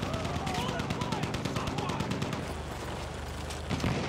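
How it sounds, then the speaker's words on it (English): Rapid machine gun fire from the Battlefield 1 World War I shooter rattles in a fast, steady stream for most of the clip, with other battle noise around it and a voice speaking over the shots. "Machine gun!"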